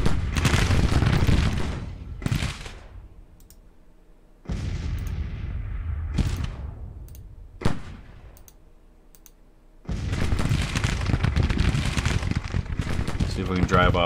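Skirmisher gunfire and artillery from the Civil War strategy game Grand Tactician, with dense volleys and booming reports at the start and again at the end and scattered shots in between, heard alongside mouse clicks and a player's running commentary.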